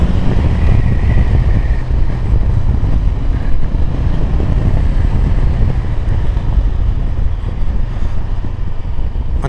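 A 2022 Honda CB500X ridden on a road, its engine a loud continuous low rumble mixed with steady wind buffeting across the whole stretch.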